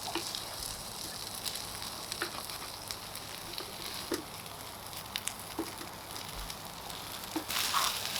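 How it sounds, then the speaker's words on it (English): Corned beef hash fries in a small pan on a cheap cooker, its bottom left to burn, giving a steady, close sizzle with scattered pops and crackles and a brief scraping stir near the end. "So I'm just going to burn the bottom a couple of times and incorporate that burnt stuff into the body of it."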